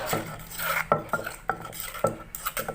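Pounding Thai shrimp paste chili dip (nam prik kapi) in a mortar: a series of sharp, close knocks and thuds at an uneven, hurried pace, with scraping and clatter in between.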